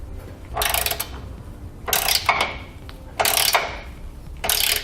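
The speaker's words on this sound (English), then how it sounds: "we'll grab a 21mm socket and we're going to pull those bolts out" A ratchet with a 21mm socket loosens factory bolts on a 2007 Hummer H3 while a Curt trailer hitch receiver is being fitted, giving four close, loud bursts of rapid clicking separated by short pauses.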